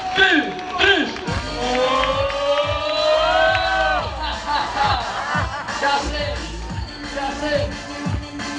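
Loud crowd at a Riga sports night event, with cheering, whoops and shouts rising and falling over several seconds, plus bursts of clapping and babble under a voice speaking over it.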